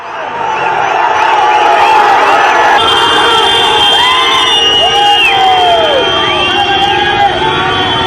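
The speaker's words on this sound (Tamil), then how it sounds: "விமான நிலையத்தை விட்டு வெளியே வந்த விஜயின் வாகனத்தை சூழ்ந்து கொண்ட ரசிகர்கள் ஆரவாரம் செய்தனர்." Crowds of fans cheer, whoop and shout around a vehicle carrying the actor-politician Vijay in Madurai after he leaves the airport, a loud, sustained roar of voices with high yells rising over the babble.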